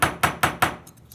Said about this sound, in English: Chasing hammers work really nicely, actually. If you don't hit it too hard,